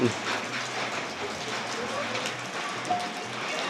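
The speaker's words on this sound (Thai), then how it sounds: "ฝนตกพี่น้องฝนตกยังบ่หยุดบ่เซาอยู่ไปทางไหนก็บ่ได้" Steady rain falling outdoors in the countryside during a multi-day downpour, a dense, even hiss that holds close and continuous throughout with a low hum underneath.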